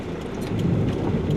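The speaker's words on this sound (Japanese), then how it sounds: "だんだん紀伊中央町も雨足が激しくなってきました。" Heavy rain drums steadily as Typhoon No. 24 approaches Kibichuo, Okayama, heard from inside a car. A dense, even roar of downpour fills the whole moment with no voices.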